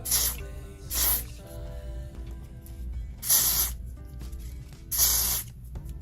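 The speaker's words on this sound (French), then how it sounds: "Je vais venir utiliser mon spray, le olive oil. Et je vais spray ça à l'avant," An olive oil hair spray hisses onto the front of a wig in four separate bursts, each loud and close and about half a second long, with quieter handling sounds between them.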